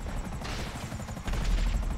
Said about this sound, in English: gonna shoot some rockets down there